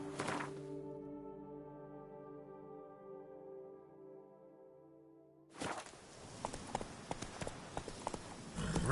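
After several seconds of a sustained musical tone, hoofbeats of the horse Roach in The Witcher 3 begin, a quick run of galloping clops that grows louder toward the end.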